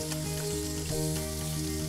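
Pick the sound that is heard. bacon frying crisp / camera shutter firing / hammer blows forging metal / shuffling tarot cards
bacon frying crisp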